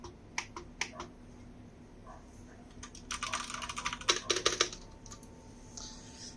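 Typing on a KREO Hive RGB wired gaming keyboard with red switches, close and crisp: scattered single keystrokes, then a fast dense burst of clacking keys, and a few final taps.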